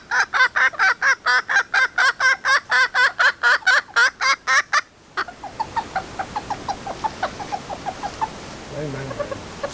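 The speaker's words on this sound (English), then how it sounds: "the chickens, being mini little bantams, can only reach so high, so they can help themselves" Mini bantam chickens in a garden, with a run of loud, evenly spaced clucks or calls close by for about five seconds, then softer, quicker chatter and small bird calls further off.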